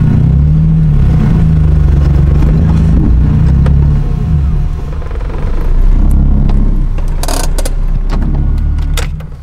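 M3-engined BMW E30 on a dyno with nitrous: a loud, sustained engine roar holding high revs, dipping briefly midway before surging again, then cutting off at the end, with no talking.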